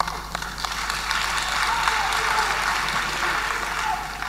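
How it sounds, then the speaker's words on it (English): Audience at a Ghanaian presidential campaign launch applauding: dense, steady clapping from a crowd, moderately distant, sustained throughout with no pauses. "Now I see the balance between the men and the women clapping."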